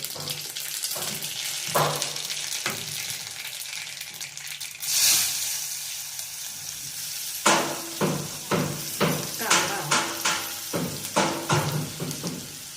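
Cumin, mustard seeds and garlic sizzle and crackle in hot oil, with a steady frying hiss broken by a run of sharp, regular pops and taps near the end.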